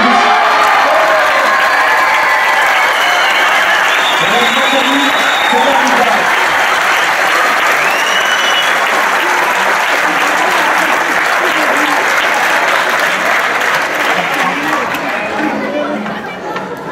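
Loud, sustained applause from a large audience fills the whole stretch, with cheering and crowd chatter mixed in and a few higher whoops rising above the clapping before it begins to fade at the end.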